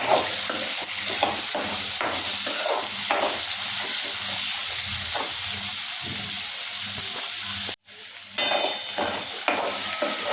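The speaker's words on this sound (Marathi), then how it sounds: "आता याच्यात वरतून कांदा चिरलेला टाकायचा. म्हणजे कांदाही बटाट्याबरोबर छानपैकी भाजून घ्यायचा." Chopped onion frying together with potatoes for batata bhaji, a steady loud sizzle broken by repeated scraping stirs of a spatula in the pan, with a brief dropout near the end before the sizzling resumes.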